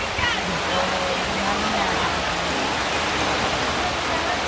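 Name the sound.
heavy rain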